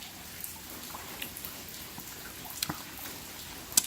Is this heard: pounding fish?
no